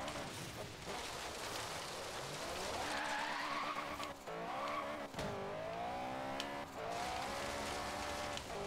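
Race cars in the Forza Horizon 3 video game roar at close range with tires skidding and squealing, a continuous loud engine drone with rising and falling revs and brief breaks.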